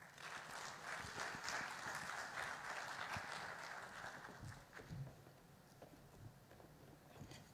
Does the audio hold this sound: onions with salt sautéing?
no